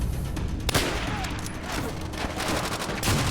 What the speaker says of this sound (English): use the bolt action rifle to kill as many guys as I can